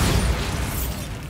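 Dense, loud explosive roar from a Bombarda blasting spell in Hogwarts Legacy, a continuous crackling, rumbling burst of debris filling the whole short moment.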